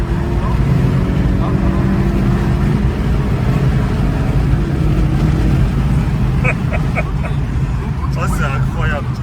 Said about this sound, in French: Est-ce que tu peux nous faire une petite accélération?